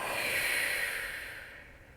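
A long, steady breath exhaled during yoga stillness, close and fairly loud, fading gradually over two seconds.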